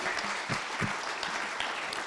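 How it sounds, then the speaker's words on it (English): Audience applause for a panel discussion on purpose-driven leadership, a steady mid-level wash of clapping that continues evenly throughout with a few sharper claps standing out. "Let's give them a round of applause."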